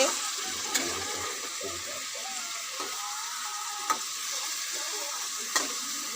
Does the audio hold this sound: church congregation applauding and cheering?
no